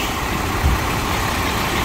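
A fire engine idles nearby with a steady, loud low rumble and a brief deeper throb partway through, and no voices over it.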